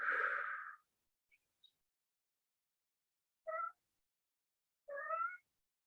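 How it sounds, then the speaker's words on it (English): A pet cat meows three times in a quiet room: a longer, louder meow at the start, then two shorter meows spaced a second or more apart, with near silence between. "For anybody hearing that, that is my kitty Nyx."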